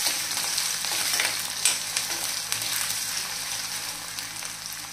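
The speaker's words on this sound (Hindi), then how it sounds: "लो फ्लेम पे हम आलू और हरी मिर्च को पका लेंगे" Potatoes and green chillies frying in a pan over a low flame, a gentle steady sizzle with a few light clicks of stirring, no voices.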